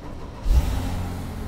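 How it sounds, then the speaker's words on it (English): A Porsche Cayman S with its check engine light on starts up, a brief crank and catch followed by a steady low idle rumble close by. "So if we go ahead and fire up the car here"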